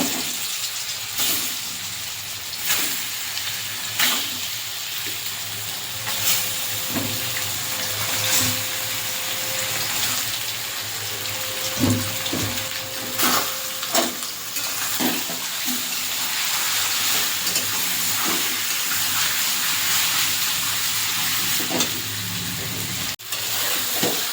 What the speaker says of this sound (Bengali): মশলা মাখানো চিকেনগুলো একটু ভেজে নেব